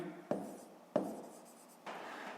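A pen writes by hand in a maths exercise, giving three short scratchy strokes, each starting with a soft tap and trailing off quietly.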